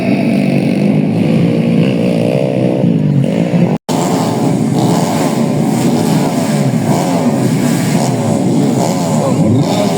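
Motorcycles at a grasstrack race roar and rev steadily, loud and close, with a brief drop in the middle. The engines run as one continuous dense snarl.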